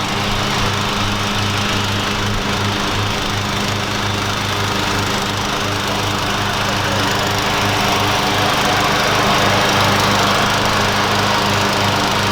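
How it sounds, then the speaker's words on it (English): A lawn mower engine runs loud and steady nearby, a constant buzzing drone with no break. "we got the lawnmower finally fixed and lawnmower running"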